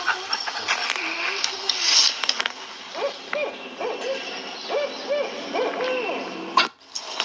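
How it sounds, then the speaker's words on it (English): A large owl hoots in the daytime, giving a series of deep, rounded hoots in quick succession over steady background noise, with a brief voice nearby. "it was an owl. Like, he was big, and he was out during the day, and he was hooting."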